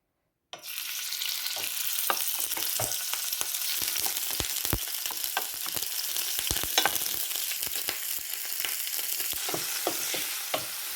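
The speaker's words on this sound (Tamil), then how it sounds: "இப்போ இறாலை பொரிப்பேன்." Prawns hit hot oil and a loud, steady sizzle and crackle begins, with sharp pops and spatters scattered throughout.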